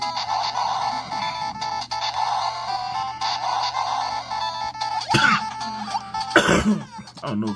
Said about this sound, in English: I've been having this dry cough for a while.